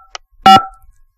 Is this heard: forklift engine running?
no